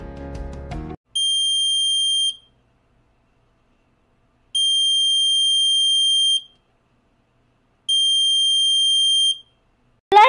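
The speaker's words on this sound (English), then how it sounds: "instead of glowing, a beep sound is produced" A small buzzer wired into a simple closed school circuit gives three long, steady, shrill electronic tones with even gaps of silence between them, loud and close, with a brief clatter at the start and end.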